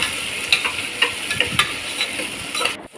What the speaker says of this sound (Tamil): வெங்காயம் கருவேப்பிலை பச்சை மிளகா போட்டு நல்லா வதக்கிக்கோங்க நல்லா வதங்கட்டும்